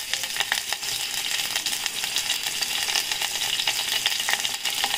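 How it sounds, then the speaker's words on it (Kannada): Spices frying in hot oil in a pan, with black pepper, urad dal, sesame seeds, mustard seeds and asafoetida: a loud, continuous close-up sizzle with crackling pops and faint stirring scrapes throughout, no voices. "ಬೇಕಾದಷ್ಟು ಮೆಣಸನ್ನು ಹಾಕ್ಕೊಂಡು ಫ್ರೈ ಮಾಡ್ಕೋಬೇಕು"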